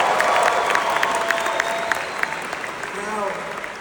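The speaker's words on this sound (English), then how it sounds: "give a round of applause for Islam Makachev, champion" Audience applause breaks out for champion Islam Makhachev, a dense, steady wash of clapping from a crowd that fades slightly toward the end, with a voice speaking over it.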